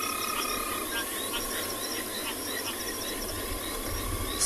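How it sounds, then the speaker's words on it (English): Frogs croaking loudly at dusk on an afternoon safari in South Africa, a dense, continuous chorus of rapid trilling calls with insects chirring underneath, steady and close throughout. "The frogs are very loud right now."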